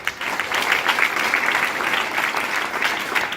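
Audience clapping at an event, a dense, steady burst of many hands at close range that fills the whole moment without pause.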